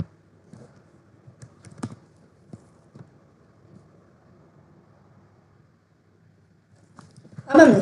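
Sparse, quiet clicks from Python code being typed on a computer keyboard, irregular keystrokes spread across the stretch, with a louder burst at the end.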